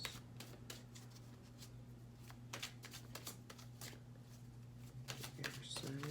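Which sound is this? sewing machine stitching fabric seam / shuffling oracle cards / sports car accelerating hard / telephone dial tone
shuffling oracle cards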